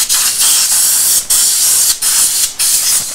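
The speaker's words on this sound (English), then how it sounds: "Then you gotta blow out this cavity." Loud, close hissing spray blowing out a cavity, in four sustained blasts separated by brief dips.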